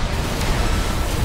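Explosion in the mech combat game Armored Core 6, a loud, dense roaring burst of broadband noise sustained for about a second, with no speech over it.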